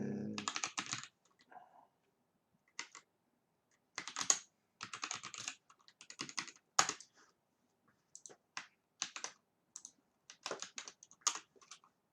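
A computer keyboard typed on in irregular bursts of crisp key clicks, close and clear against near silence, with short pauses between flurries during a live coding session, and no talking.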